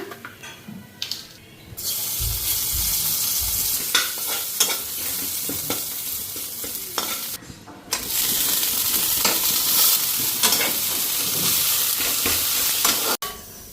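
Chopped leafy greens and black cumin fry in a pan with a loud, steady sizzle. Frequent scraping and clattering stirring strokes cut through, with one short lull partway through and no talk.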